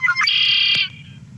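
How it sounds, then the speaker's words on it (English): Red-winged blackbird call: a single loud, close, buzzy trill sustained for about half a second after a short opening note, standing alone over faint low background hum. "So here is the red-winged blackbird."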